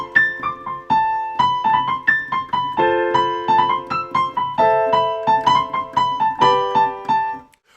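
Piano melody with an octave jump and a grace note: clear single notes over soft chordal support in an even, flowing rhythm, close and moderately loud, ending in a held decay with no talking.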